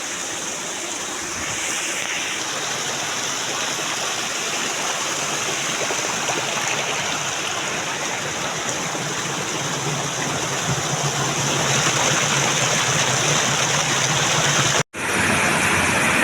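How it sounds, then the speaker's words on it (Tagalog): A tiered, stair-stepped waterfall roaring in a steady, loud, broadband wash of falling water, close and continuous throughout with no voices. "Ito guys, ang ganda dito ng falls na to guys. Hagdan-hagdang falls ito guys."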